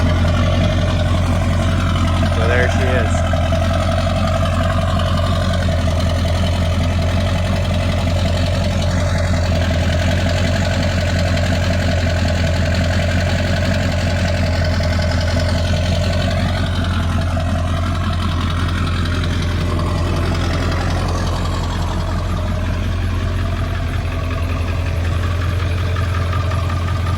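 A 7.3 OBS Powerstroke diesel truck engine idling, a steady, loud, low rumble with a rhythmic knocking clatter that continues without a break, close by.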